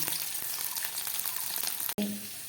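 Capsicum fries in a pan with a steady, close crackling sizzle, broken by a brief dropout just before two seconds and then a short stir against the pan.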